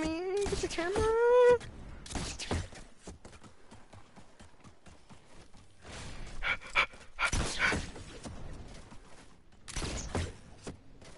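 A puppy barks in short bursts with panting between, heard close in a home while people talk and exclaim around it.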